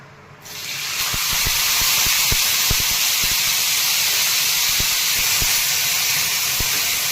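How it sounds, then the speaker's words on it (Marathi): Radish pods sizzle after being added to hot oil with tempered cumin and mustard seeds, a loud steady hiss with scattered small pops and crackles throughout. "तेलामध्ये छान परतून घेतात डिंगऱ्या"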